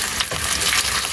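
Food fries in a pan outdoors at an allotment garden with a loud, steady sizzle and crackle, broken by brief stirring scrapes and no talking.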